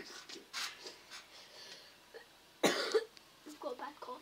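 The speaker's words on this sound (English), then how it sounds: "I've got a bad cough, sorry." A person with a bad cough gives a couple of harsh coughs and throat noises, near and fairly loud, with faint talk around them.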